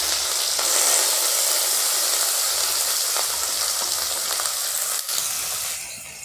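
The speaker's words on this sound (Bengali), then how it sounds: "তেল গরম হয়েছে, ওর সঙ্গে আমি মিশিয়ে দিচ্ছি পেঁয়াজের কোচাগুলো" Chopped onions fry in hot oil in a pan, giving a loud, steady sizzle and crackle that runs unbroken from start to finish, with no voices over it.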